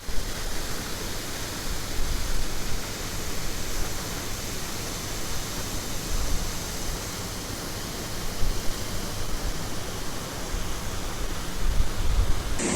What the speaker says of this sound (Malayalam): फोंग माँ वाटरफॉल